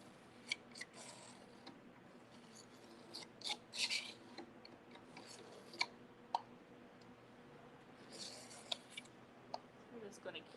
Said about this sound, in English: We're just going to keep scraping.